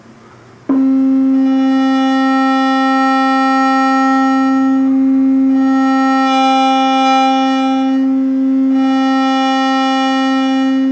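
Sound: synthesizer wavetable sweeping sine to square

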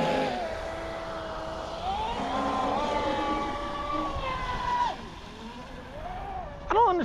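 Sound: motorboat engine accelerating

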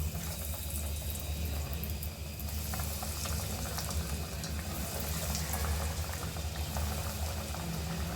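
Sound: chicken nuggets frying in hot oil in a wok

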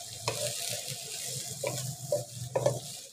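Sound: kachnar keema frying on medium-low heat

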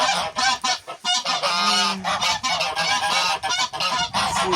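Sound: white geese honking

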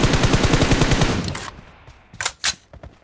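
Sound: automatic gunfire from the video game BGMI

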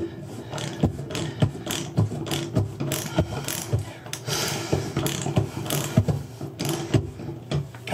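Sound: drain extractor tool removing corroded tub drain

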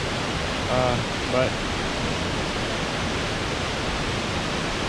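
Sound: waterfall

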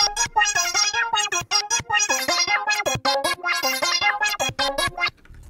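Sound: lead melody sound with effects, preset Artifact

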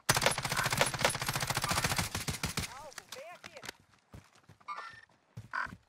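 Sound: gunfire in a video game

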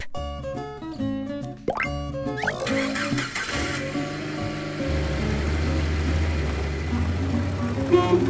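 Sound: jeep

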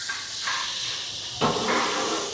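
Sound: water coming to a boil

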